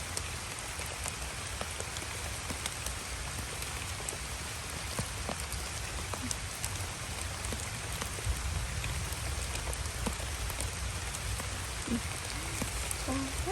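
Steady rain falls over an oil palm plantation, a dense, even hiss of drops on leaves and ground with scattered louder patters, continuing unbroken and without voices.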